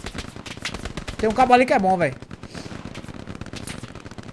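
Rapid bursts of gunfire in the World War II shooter Hell Let Loose crackle throughout, loud and close, in uneven volleys alongside someone talking.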